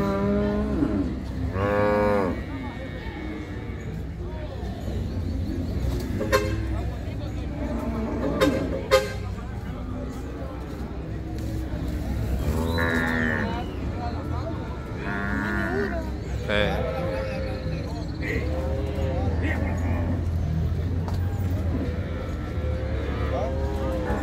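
Cattle lowing at an open-air livestock market in El Tránsito, where cows are offered for sale. A few drawn-out moos rise over steady crowd noise while someone talks close by.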